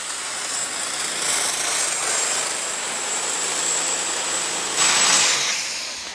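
A John Deere 4444 Turbo super stock pulling tractor roars steadily at a 1996 tractor pull in Chapel Hill, Tennessee, a loud sustained high-pitched engine howl that surges briefly near the end.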